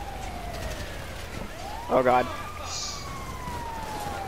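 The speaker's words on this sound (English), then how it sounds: "there's an ambulance, there's an ambulance." An ambulance siren in the video game GTA wails steadily in the background with a rising and falling tone, while a voice briefly exclaims over it.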